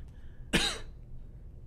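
A single short cough or throat-clearing burst, fairly close, standing alone against quiet background hiss.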